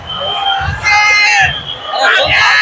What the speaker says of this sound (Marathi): केवढा मोठा जनसमुदाय आहे चिंतामणीचे स्वागत करण्यासाठी